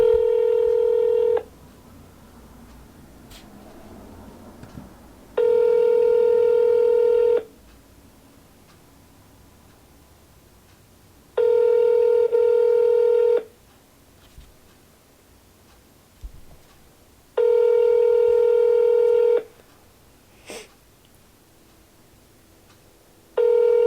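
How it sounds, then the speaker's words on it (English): An automatic dialer places a call, and a telephone ringback tone sounds four times at steady intervals with quiet gaps between the rings. "So I'm getting a call right now from the dialer."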